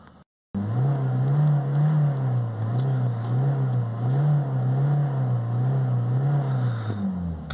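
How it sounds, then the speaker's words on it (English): A Ford car engine revving under acceleration, a loud steady drone that swells and dips in a regular rhythm after a brief silent start, with no talk over it. "by accelerating the car, the temperature is rising"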